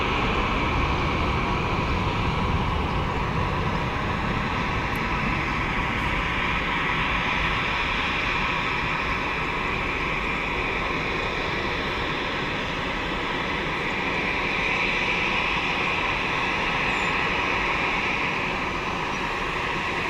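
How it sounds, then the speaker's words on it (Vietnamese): An airplane takes off at Saigon airport with a steady, broad jet-engine roar that holds loud and unbroken throughout, with no voices. "Và bây giờ máy bay cất cánh."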